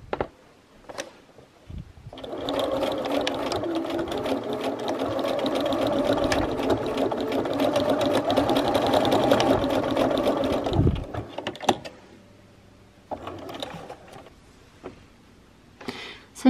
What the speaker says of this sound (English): I'm just gonna go back and forth a couple of times on that.